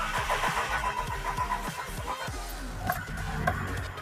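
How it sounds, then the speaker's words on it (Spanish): A Pontiac Sunfire engine, after failing to start, cranks in a rapid run of starter pulses and then catches and settles into a steady idle with faint clatter. "Si se fijan, el carro ya encendió,"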